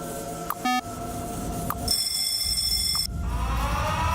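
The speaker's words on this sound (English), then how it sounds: "So hopefully our alarm will chill out now." A repeating electronic alarm tone in the video game Factorio plays over steady game background noise, with a brief beeping burst followed by a sustained layered tone that cuts off abruptly.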